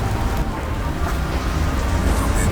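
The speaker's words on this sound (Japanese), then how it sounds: "また雨強くなってきたな。" Heavy rain pours steadily on a van driving a narrow mountain road at night, a dense, loud, unbroken wash of drumming water with low road rumble beneath.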